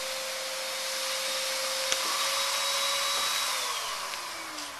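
Vacuum running during a hot tub delivery: a steady, loud whining roar with a constant tone and airy hiss that holds throughout, the pitch dipping slightly near the end, with no talk.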